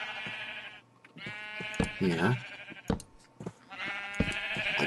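Sheep bleating in a survival map-making video game, with harmonic-rich bleats standing out near and loud, interleaved with someone talking over them.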